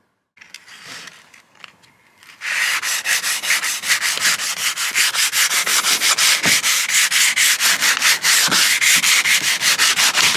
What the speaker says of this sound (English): we're going to jump into right after I finish the sanding